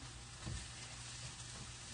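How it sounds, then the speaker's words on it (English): Eggplant frying in hot oil in a pan on a stovetop for ratatouille, a steady soft sizzle throughout with a faint stir or shift partway, alone with no talk. "Okay, I heated that up. That should be frying now."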